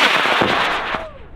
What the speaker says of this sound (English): Put Charles' rocket up in 5, 4, 3, 2, 1, go away